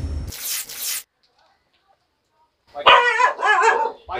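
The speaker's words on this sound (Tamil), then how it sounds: "நல்ல செக்யூரிட்டி தான் அந்த நாய்" A dog barking in short loud bursts close by, two quick barks, a pause of near silence, then a second cluster of barks.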